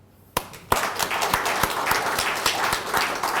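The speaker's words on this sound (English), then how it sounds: "Big round of applause, ladies and gentlemen." An audience bursts into applause at the launch of a national five-year strategic plan, beginning with a few sharp claps and then building into steady, moderately loud clapping from a modest crowd.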